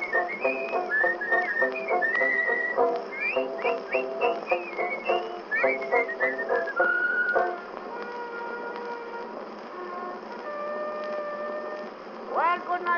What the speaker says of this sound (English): this is how he whistles that tune.